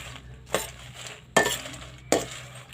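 Dried chilies dry-roasted in a pan for northern Thai larb seasoning, with three sharp scraping clinks of a spatula against the pan spaced about a second apart over a low steady background.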